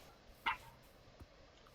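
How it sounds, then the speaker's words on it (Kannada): A tamed dog in the Minecraft video game gives one sharp, brief bark, then a fainter short yap, both close and alone over a quiet, low background hum. "ದೊಡ್ಡದಾಗಿರುವ ನಾಯಿ ಎದೋಳು"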